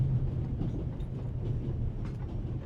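A steam-era train rolls along rails in the video game The Raven Remastered, a low, continuous rumble with faint clattering, heard from inside a carriage with no voices.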